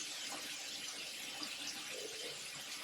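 Tap water runs steadily into a sink while soap is rinsed off a face, a constant close hiss with small splashes and no voices.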